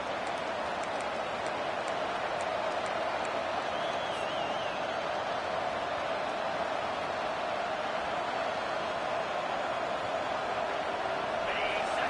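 A home crowd cheers at a college football game between Miami and UNC, a steady roaring wash of noise from a packed stadium that holds loud and unbroken throughout.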